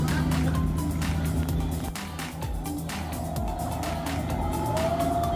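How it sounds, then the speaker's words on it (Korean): An extreme jet boat speeds up on the sea off a Korean beach, its engine roar climbing steadily with rushing water and wind buffeting the microphone, loud and close throughout. "점점 속도를 올리는 제트보트."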